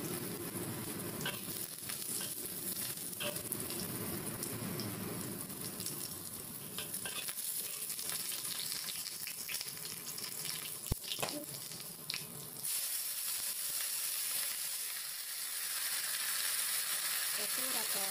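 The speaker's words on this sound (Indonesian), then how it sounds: "Sekarang kita masukin jahe dulu." Ginger sizzles and crackles in a hot pan as it is stir-fried for a dish with tofu skin, wood ear mushrooms and napa cabbage. A steady frying hiss carries throughout, with scraping stirs and occasional water sounds from a kitchen.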